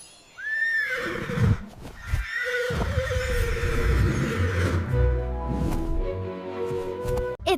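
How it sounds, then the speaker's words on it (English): A horse whinnies loudly and close, with a long shaky neigh that rises and then trails off over several seconds, followed by snorting and rumbling breaths. No one speaks. "It's a horse."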